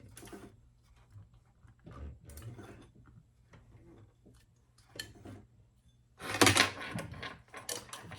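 A sewing machine stitches through a bag with hardware attached, short bursts of mechanical whirring and clatter separated by pauses, the last burst loudest and closest.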